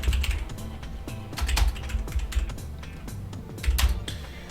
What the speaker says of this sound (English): I may actually skip through some of this tedious typing